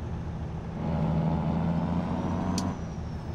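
A heavy truck in American Truck Simulator with an Eaton-style manual shifter: the engine drones steadily, its note rising and falling as gears change, with a short hiss near the end.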